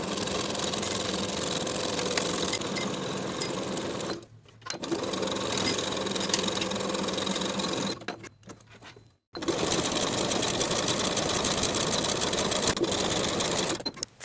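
A sewing machine stitches the side seams of a T-shirt in long, loud, continuous runs close up, pausing briefly twice before starting again.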